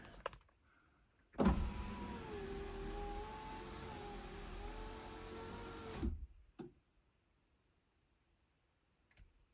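A car's electric window motor whirs steadily for several seconds while the window is lowered fully, then stops, followed by a couple of faint clicks in the quiet.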